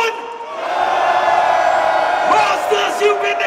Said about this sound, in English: I wanna hear everybody scream.